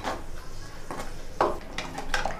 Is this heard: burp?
no